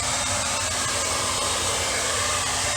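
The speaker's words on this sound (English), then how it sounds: "Probably the safest way, but it just takes a while to melt the ice, is to use a hair dryer." A hair dryer blows steadily at close range onto ice inside a leaking Blomberg fridge, a continuous even whoosh with a low hum and no pauses.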